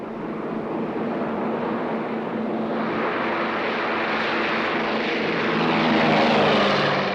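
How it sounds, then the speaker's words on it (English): Propeller airliner revving up and taking off, a droning engine roar that builds steadily and grows louder toward the end, heard alone without talk. "There's my plane."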